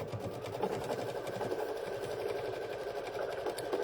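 A sewing machine stitches quilting over a quilt block, its rapid steady mechanical chatter running continuously and close with no talking.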